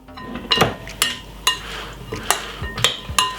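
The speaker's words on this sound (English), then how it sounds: "Give it a lovely stir" A salad seasoned with black pepper is stirred with utensils in a bowl, giving a series of distinct clinks and scrapes in an irregular rhythm, close and fairly crisp, with no talk over them.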